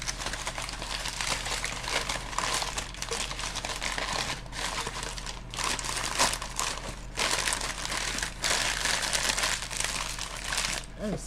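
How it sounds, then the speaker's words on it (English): Loud, continuous crinkling and crumpling, like plastic or paper being handled close up, running throughout with brief pauses and a low steady hum beneath. "That is so loud crinkling."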